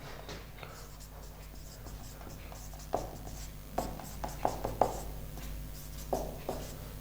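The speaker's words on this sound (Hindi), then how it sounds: "चलिए इधर लिखता हूँ" A teacher writes on a board during an organic chemistry lesson, giving faint scratchy strokes and several sharp taps of chalk or marker spread across a quiet room with low background hum.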